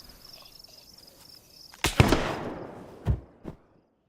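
Gunshots ring out in DayZ on the Livonia map: after a quiet stretch, one loud crack echoes off, followed by two more sharp reports about a second apart.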